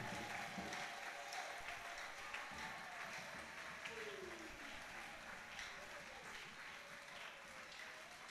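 A church congregation applauds loudly for Jesus Christ in a continuous dense clatter of clapping that holds steady throughout, with a preacher's voice faintly mixed in.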